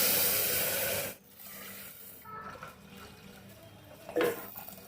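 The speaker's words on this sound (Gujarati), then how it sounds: "ખીચડી માટે જોઈતા પ્રમાણમાં આપણે પાણી એડ કરી દઈશું" Water is poured into a pot of washed dal and rice for khichdi, a loud rushing splash lasting about a second before cutting off abruptly, leaving quieter kitchen background noise.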